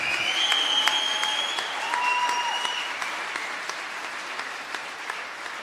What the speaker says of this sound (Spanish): Den un aplauso fuerte, gloria a Dios.